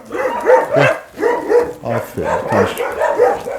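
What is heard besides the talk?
dogs barking at a German Shepherd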